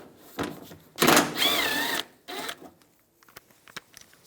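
A 10mm socket backs out a bumper cover screw in the inner fender well of a 2004-2009 Toyota Prius: a few light clicks, then a loud whirring mechanical burst of about a second, followed by softer taps and clicks.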